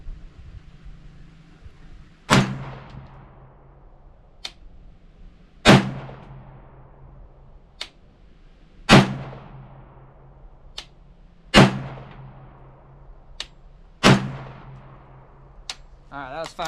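Five sharp reports from an AR pistol being zeroed at a range ring out at roughly three-second intervals, each crack followed by a short decaying echo, with faint quieter ticks in between.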